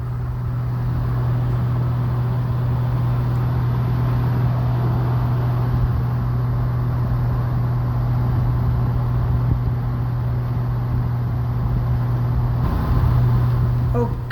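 Steady engine and road drone from a vehicle cruising on an Oklahoma highway at 73 mph in 7th gear in economy mode, a constant low hum with tire noise throughout.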